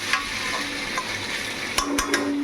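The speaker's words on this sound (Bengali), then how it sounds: "এখানে আমি করছি একটু আলু ভাজা" Potatoes frying in a pan for a breakfast side, a continuous close sizzle with a few sharp stirring clicks of a utensil against the pan near the end, no talking.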